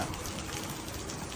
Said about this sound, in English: Yo, it raining hard too.